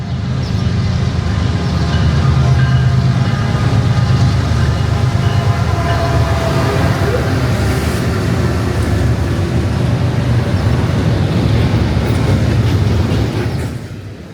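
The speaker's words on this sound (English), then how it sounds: "now we've got a southbound freight coming" A southbound intermodal freight train from North Bergen, New Jersey to Jacksonville passing through Ashland, Virginia on Track 2, a loud steady rumble and clatter of cars rolling by nearby, fading slightly at the end.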